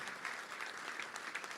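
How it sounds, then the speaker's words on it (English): Continuous applause from a crowd at a Little Rock Touchdown Club meeting, moderately faint, steady clapping with no speech over it. "Let's give them a round of applause."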